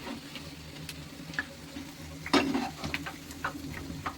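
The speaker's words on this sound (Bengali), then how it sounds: "ভালোভাবে লাল লাল করে ভেজে নেব, এ পালট ও পালট করে, যেন কাঁচা না থাকে।" Food frying in hot oil, turned over and over until golden red, gives a soft steady sizzle with light stirring clicks and scrapes and one louder splatter midway.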